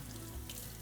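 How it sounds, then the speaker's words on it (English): A kitchen tap runs water steadily into a sink while blended soup is prepared, a continuous broadband wash of moderate level with no talking. "Now I can run the water nicely through that"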